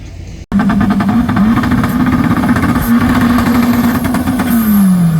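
A drag race car launches off the line with a loud, close, sustained engine roar that holds steady after an abrupt start, pitch dipping slightly near the end.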